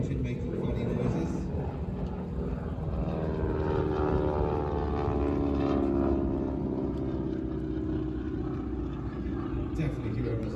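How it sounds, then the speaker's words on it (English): A T-6 trainer aircraft with a Pratt & Whitney R1340 radial engine flies over a harbour at an air show, its propeller tips giving a loud, steady rasping drone that holds for the whole stretch, with a voice talking underneath. "you'll hear this rasping sound coming from the harbour. It's the tip of the propeller, not the engine making funny noises."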